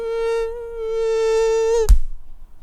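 A beatboxer's voice imitates a buzzing mosquito, one steady nasal drone held close and alone for almost two seconds before cutting off with a short breathy burst.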